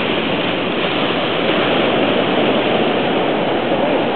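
Ocean surf breaks steadily on the sand at Popham Beach, Maine, on a November day, a loud continuous wash of rushing water with no pauses and no voices over it.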